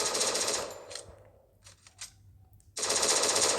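Rapid automatic gunfire in a video game: a loud burst at the start, a quieter gap with a few faint shots, then another loud sustained burst at the end.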